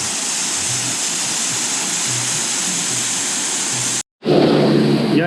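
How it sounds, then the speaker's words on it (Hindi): A waterfall cascading down from above on the Kedarnath trek roars loud and steady at close range, briefly cut off before a rougher, louder rush returns. "और ये झरना ऊपर से आ रहा है।"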